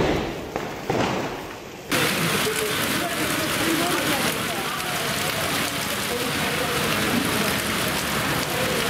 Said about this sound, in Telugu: నెల్లూరు నగరంలో ఎడతెరిపి లేకుండా వర్షం